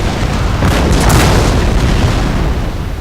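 Artillery battery firing cannon in a historical battle game set at the 1708 siege of Jelgava, a loud, continuous rumbling roar of overlapping booms with no clear separate shots, no voices.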